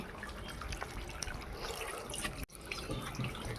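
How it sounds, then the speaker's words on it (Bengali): Water runs from a tap during laundry washing with buckets nearby, a steady, fairly soft splashing stream with scattered drips and a brief dip partway through. "জল পড়তেছে দেখছো জল পড়তেছে"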